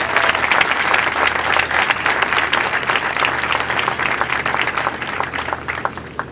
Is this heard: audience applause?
yes